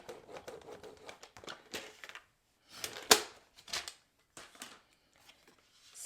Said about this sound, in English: let's bring in our trimmer. Let's just give that a good score